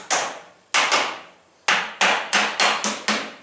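Seven sharp, loud hammer blows driving a lid onto a metal can, spaced unevenly with short pauses, each strike ringing briefly before the next.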